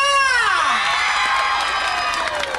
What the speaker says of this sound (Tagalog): Magpalakpakan ang lahat ng babae!